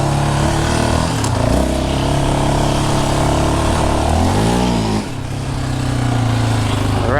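A 2022 Yamaha Raptor 700R SE ATV climbs a hill, its single engine loud and steady throughout, rising and falling in pitch as the throttle shifts, with no talking.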